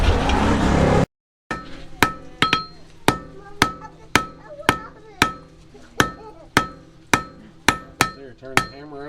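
A cross peen hammer strikes hot metal being drawn out and flattened, about a dozen sharp ringing blows at a steady, even rhythm after a brief burst of noise, close and clear with no talking.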